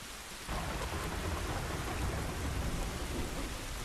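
Thunder and heavy rain fill a scene in the video game The Last of Us, starting abruptly after a quiet moment and then holding as a dense, loud, steady downpour with a rolling rumble underneath.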